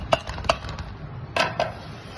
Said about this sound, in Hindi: चम्मच की मदद से इसको मिक्स कर लेंगे